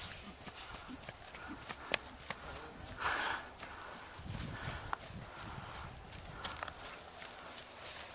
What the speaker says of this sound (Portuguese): Você quer ver teu cavalo andando?